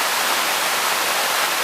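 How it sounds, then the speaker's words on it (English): A waterfall roars nearby, about 10 km from Mahabaleshwar, as a loud, dense, unbroken rush of water with no voices. "Undisturbed nature in its full flow. This waterfall is 10 kilometers en route to Mahabaleshwar."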